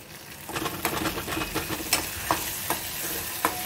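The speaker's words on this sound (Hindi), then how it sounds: "इसको भूनने के लिए अब इसको अच्छे से भूनेंगे" Colocasia (arbi) leaf curry sautéing in a pan, a steady close sizzle broken by repeated scraping strokes of a spoon at irregular intervals, with no voices.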